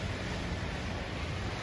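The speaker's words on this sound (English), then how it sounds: "The ocean's got some energy," Wind-driven hurricane surf churns along the La Jolla shore as a continuous broadband roar, steady and dense with little break, mixed with wind hiss against the microphone.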